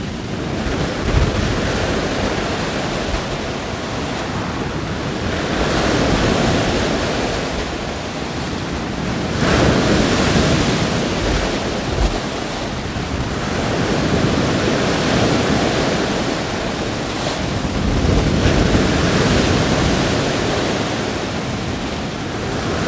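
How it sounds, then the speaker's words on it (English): Waves crash on the Lake Ontario shore as a continuous roar of surf that swells and recedes in broad surges, close and fairly loud, with some wind buffeting the microphone and no voices. "by being here on Lake Ontario and hearing those waves crashing into"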